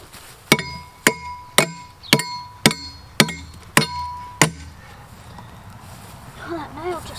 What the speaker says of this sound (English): you should be able to bang it off with the hammer